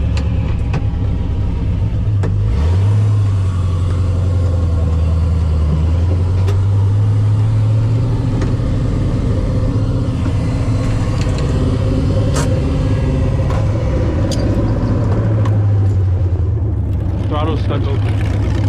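An LS-swapped Ford Mustang with its throttle stuck open drones loudly on the street, its engine note climbing and falling in a few revs, heard from close by under a voice.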